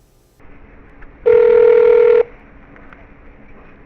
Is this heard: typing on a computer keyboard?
no